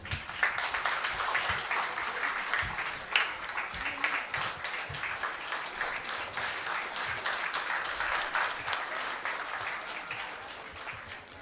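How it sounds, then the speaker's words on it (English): A hall audience at a university convocation, CGU Odisha, gives sustained applause for a PhD graduate, a dense, even roar of many clapping hands lasting several seconds without speech. "Give a big round of applause."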